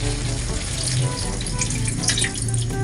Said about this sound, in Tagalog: Lalagay din tayo ng konting tubig mga kalumlum.